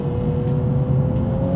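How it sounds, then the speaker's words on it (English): An Infiniti Q50S Red Sport 400 engine holding a loud, steady, close drone through a paddle downshift into a corner, with no talk over it. "Grab a paddle, downshift into the corner,"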